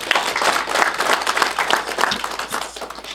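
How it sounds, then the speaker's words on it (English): A conference audience applauds as diocese delegates stand, a dense, steady wash of many hands clapping at close to moderate distance, sustained through the whole stretch with no voices on top. "Let's give them a round of applause."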